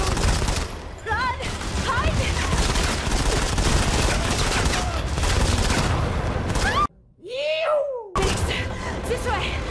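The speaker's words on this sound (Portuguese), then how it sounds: "Bem, agora começa o tiroteio" Game gunfire bursts out during a shootout in the mobile shooter Modern Combat 5, a dense, loud, continuous barrage with a brief drop near the end before the firing resumes.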